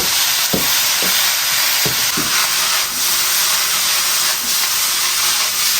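Green vegetables stir-fried in a hot wok after scallion, ginger, garlic and dried chilies, a loud, steady hiss and sizzle with a few sharp clanks of the spatula early on, close and without speech.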